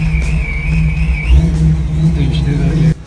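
A boosted Ford Mustang Cobra SVT racing, its engine droning loud and low with a rising whine, while someone talks over it throughout.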